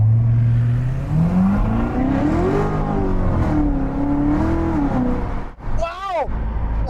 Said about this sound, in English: we're gonna do a quick acceleration with the windows down